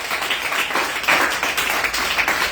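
Church congregation applauding together, a steady stream of hand claps with irregular rhythm at moderate distance, filling the space without any talk over it.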